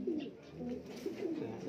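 Pigeons coo softly nearby, several low throaty rolling calls repeating over a quiet background.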